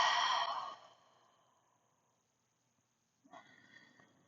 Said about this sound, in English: And we're going to do our little breath work.